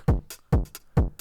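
A punchy electronic kick drum with a pitch-swept thump repeats three times in a steady rhythm, each followed by a short hissy hi-hat-like tick.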